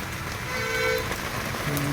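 Rain patters steadily on a surface, with a faint distant vehicle horn tooting briefly in the background, heard from an auto-rickshaw.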